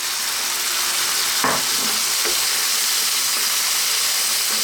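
Roughly chopped canned tomatoes hit a hot pan of garlic and set off a loud, steady, hissing sizzle that stays constant throughout, with faint stirring noises and no talking.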